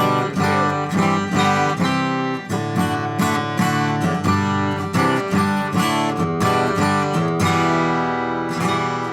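A Taylor Gold Label Grand Pacific acoustic guitar strummed and picked in a full, resonant rhythm, close and clear, with ringing chords and no voices.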